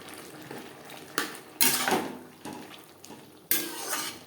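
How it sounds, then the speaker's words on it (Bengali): A spoon stirs bottle gourd with cumin in a metal pan, giving irregular scraping clinks and clatters, loud and close, with a faint sizzle beneath and no talk. "লাউর সাথে জিরেগুলো বেশ ভালো করে মিক্সড করে দেব এক দু মিনিট নাড়াচাড়া করে নেওয়ার পর"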